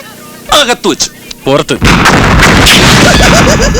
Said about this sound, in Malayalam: നീ എന്തിനടാ ഈ കതിനാ വെടി കെട്ടിച്ചിരിക്കണം